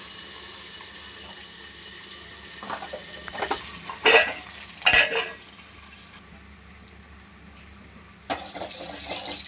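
Curry leaves dropped into hot oil for a dal with ridge gourd, giving sharp crackling bursts and clattering pan noises over a quiet background hiss, with a louder sizzle toward the end.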